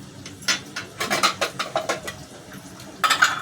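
Clattering metal of an idli steamer pot being handled while it is oiled, a run of sharp knocks and scrapes in uneven rhythm, close and fairly loud, with a denser cluster of clanks at the end.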